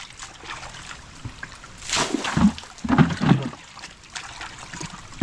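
Spring water gushes strongly among rocks, a broad rushing wash with splashy bursts that swell in the middle, close by, with faint voices briefly underneath.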